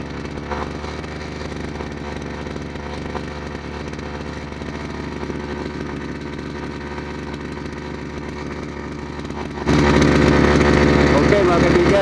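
Small two-stroke grass cutter engine running steadily with a buzzy, raspy drone, then abruptly louder and harsher near the end as it revs up, close by.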